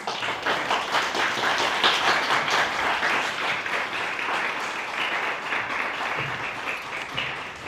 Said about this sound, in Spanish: les pido nuevamente un aplauso para Macha Colón